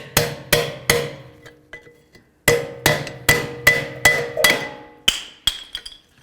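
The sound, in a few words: removing rear brake pads from Buick LaCrosse caliper bracket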